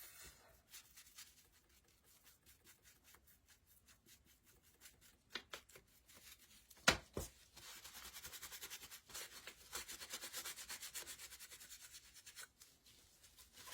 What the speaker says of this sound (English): I'm just brushing my wax on. And I'm going to wipe it off.